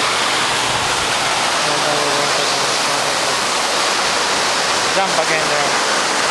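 A waterfall rushes loudly and continuously during canyoning in Catbalogan City, Samar, its steady roar filling the whole scene while a person speaks briefly over it.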